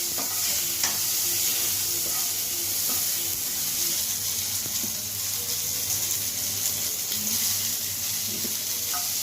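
Tomatoes frying in a little oil give a steady, close sizzle that runs the whole time, with a few scattered clicks and taps of a spoon in the pan.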